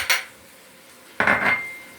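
Seasoned chicken pieces are tossed in a dish as part of a homestyle stewed chicken and potato recipe, giving two short clattering scrapes of utensil against the dish, the second louder and longer, with no talk.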